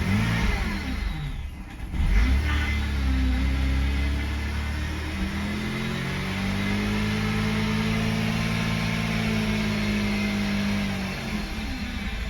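A 2011 BMW 328i xDrive engine with an oil pressure warning idles roughly nearby, its steady droning hum wavering in pitch before the tone sags and starts to fade near the end.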